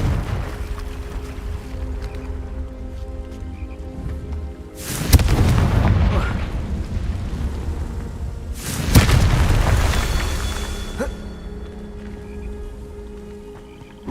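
Two heavy, booming blasts from the Confringo spell in Hogwarts Legacy land a few seconds apart. Each one hits with a sudden deep roar that slowly rumbles away, over a low game ambience. No one speaks.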